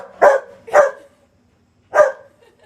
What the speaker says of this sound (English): she brought her big-ass dog who's a massive homophobe